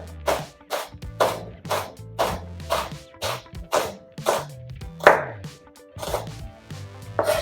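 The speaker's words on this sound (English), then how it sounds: "So I'm gonna slice this." A knife slices peeled shallots on a cutting board in about a dozen crisp, evenly spaced chops, close and clear with no talk.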